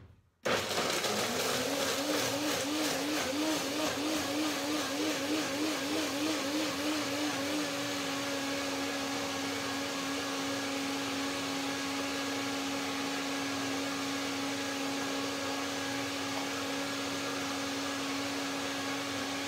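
A blender starts up and runs steadily blending cashews and avocado, a loud, continuous high-pitched whir that wobbles briefly before settling into an even drone.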